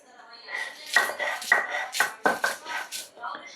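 Onion, chili and garlic are ground by hand on a stone slab and grinding stone, with steady rhythmic scraping strokes repeating up close at moderate loudness.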